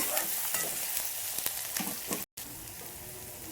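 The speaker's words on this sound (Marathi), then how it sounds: "तर हे पण आपल्याला कच्चेपणा जाईपर्यंत असंच परतून घ्यायचं आहे." Ginger garlic paste sautéing with onion in a pan, a soft continuous sizzle broken by light spatula scrapes and stirs, close and fairly quiet, with one brief dropout.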